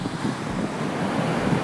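Large ocean waves breaking on a sand beach at Huntington Beach, a dense steady roar of surf with wind buffeting the microphone, no pauses and no voices.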